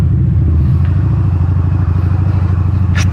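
A 2012 Harley-Davidson V-Rod Muscle 10th Anniversary rides along, its loud, close engine giving a steady throbbing rumble with pulsing low-frequency beats throughout.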